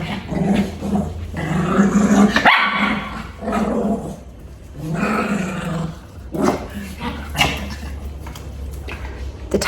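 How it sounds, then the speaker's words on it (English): Several dogs bark, growl and snarl close by in a lively, overlapping scuffle that continues through the whole stretch, with a few louder bursts. "I'm just moving away from the dogs because they're attacking them."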